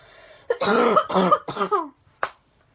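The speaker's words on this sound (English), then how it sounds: "freaking hate coughing" A few harsh, throaty coughs in quick succession, close and loud, followed by a brief final cough after a pause.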